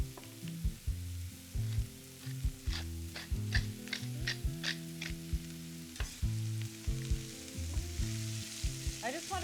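Fish and vegetables sizzle steadily in a frying pan, a constant close crackle punctuated by rhythmic clicks and scrapes of utensils moving the food, with no talking.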